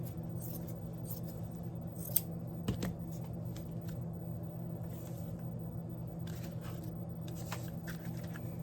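Scissors snip through Dollar Tree fall decor cutouts in a few sharp, brief cuts over a steady low room hum, close and moderately quiet, with no talking.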